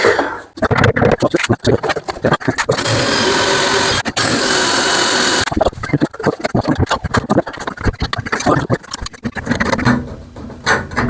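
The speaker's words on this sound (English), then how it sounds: "So now we can drill those two holes." A power drill whines loudly in bursts while drilling two holes for a shower cubicle installation, with a long sustained run in the middle and shorter stop-start revs around it.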